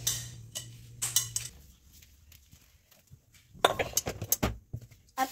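A cooking pot is handled in a kitchen before rice is cooked, giving a few scattered metallic clinks and knocks, some in short bursts with quiet gaps between them, close to the microphone.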